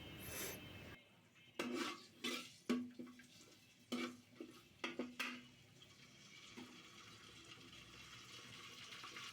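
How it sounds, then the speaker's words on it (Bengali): Soybean oil with bay leaf, cinnamon and cardamom is stirred in a large pot for mutton nihari, a series of sharp metallic spoon knocks and scrapes against the pot, irregular and close, fading into quieter handling. "এই পর্যায়ে আমরা বড় একটা পাতিলের মধ্যে সয়াবিন তেল, তার সাথে তেজপাতা, দারচিনি, এলাচ দিয়ে কিছুক্ষণ নাড়াচাড়া করে নেব।"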